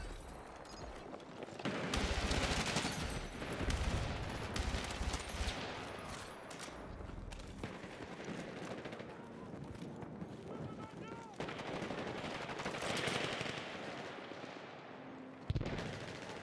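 In Battlefield 6, a Vector gun fires in rapid automatic bursts at close range, repeating through the clip, with someone talking over the shooting.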